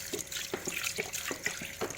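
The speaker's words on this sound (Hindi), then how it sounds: "अब हम इसमें पानी डालेंगे।" Water poured into a pot of beef trotters for paya, a steady splashing stream with irregular drips and gurgles, close and fairly loud, with no voices.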